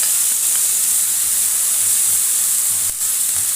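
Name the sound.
peppers added to pan of liver, sizzling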